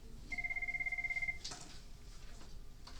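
Office telephone ring, a single sustained electronic tone burst, followed by faint clicks and room noise in a chemistry classroom.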